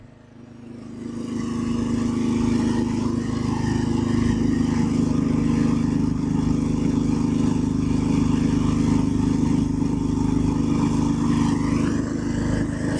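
A 5.5 HP petrol-engine multipurpose chopper for cutting banana stems, water spinach and other fodder runs with a loud, steady engine drone that rises after the first second and holds constant throughout, with no talk.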